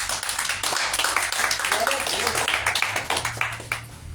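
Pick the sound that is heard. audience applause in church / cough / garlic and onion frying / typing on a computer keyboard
audience applause in church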